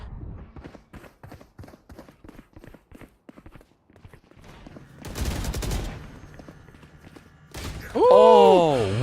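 Rapid gunfire from the video game Valorant crackles as a steady run of sharp shots, followed by louder broadband bursts, with a commentator's voice rising over the last moments.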